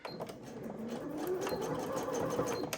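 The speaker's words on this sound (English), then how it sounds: "Pull the pin slightly out so I don't sew over it because I don't want to break my needle." A sewing machine runs steadily up close while zigzag stitching a fabric scrunchie, its fast whirring mechanical hum rising slightly in pitch over a few seconds, with no speech.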